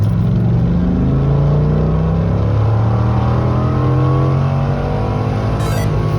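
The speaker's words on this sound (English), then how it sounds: "I did a simple acceleration test by measuring how long it took the Viper to get from 30 to 80 miles per hour in second gear" A tuned Dodge Viper pulls hard in second gear from 30 to 80 mph, its engine note loud and close, rising steadily in pitch through a continuous, strained rev with no voices.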